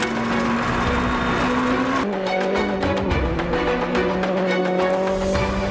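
Rally cars racing on a stage of the 2012 Cyprus Rally, a Ford Fiesta Turbo 1.6 against a Skoda 2.0: a loud, continuous engine howl that shifts pitch sharply partway through as gears change, with rough gravelly texture and no voices.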